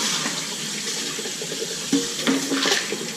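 Running tap water pours steadily as roots of a phalaenopsis orchid are rinsed under it, a close, continuous splashing rush with brief louder gurgles near the end.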